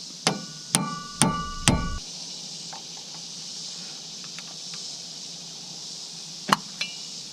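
Four sharp metallic hammer strikes ring out in quick succession on a wheel bearing during disassembly, each with a bright tonal ring, followed by quiet, faint taps and one more clear hit near the end.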